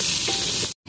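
Ingredients frying in a pan give a steady, dense sizzle, close and fairly loud, with no talking, cutting off abruptly near the end before a brief return.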